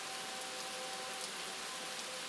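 Steady, even rain hisses continuously, a soft dense wash with a faint tonal hum beneath and no voices.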